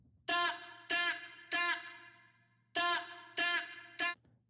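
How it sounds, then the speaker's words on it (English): Six short sung reggaeton vocal bursts in an uneven rhythm, each trailing off into echoing delay repeats and a reverberant wash, with nothing else underneath. "you can hear a lot of vocal delays going on"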